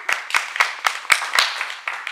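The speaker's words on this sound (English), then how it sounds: "Why are you clapping?" Hands clap eight times at an uneven, slightly quickening pace, each clap sharp and close, with brief quiet gaps between.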